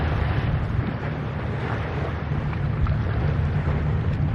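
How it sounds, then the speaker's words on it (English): Ocean surf rolls continuously in the background, a steady low wash with constant wind rumbling across the microphone, no distinct individual waves standing out. "I hope you enjoyed the sound of the ocean in the background."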